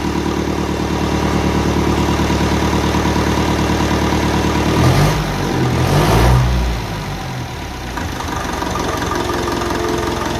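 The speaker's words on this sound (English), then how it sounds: "Sounds lovely. Tight little engine." A loud diesel engine of a 1955 Ferguson TEF 20 tractor idles with a steady low knocking chug, briefly revving up midway before settling back to a rough idle.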